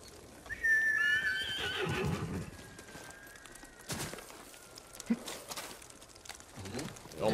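A horse whinnies loudly near the start in Ghost of Tsushima, followed by scattered hoof clops and faint game ambience.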